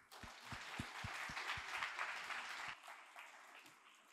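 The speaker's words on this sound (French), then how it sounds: "Et donc, pour Guillaume, beaucoup d'applaudissements, s'il vous plaît." Audience applause at a tech conference talk on Google Cloud serverless security, a dense wash of clapping that holds steady for nearly three seconds, then thins into a few scattered claps and fades out.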